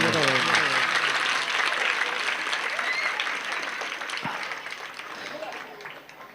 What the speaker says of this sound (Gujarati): સાહેબ તમામ શિક્ષકો એકવાર જોરદાર તાળીઓ ગડગડાટથી વધાવો એમને